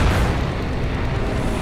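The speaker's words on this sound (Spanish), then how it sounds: "Ha volado el nido y la barricada." Explosion in the video game Dying Light as a nest and barricade are blown up: a sustained, loud, rumbling blast with a heavy low-end roar that holds steady throughout without fading.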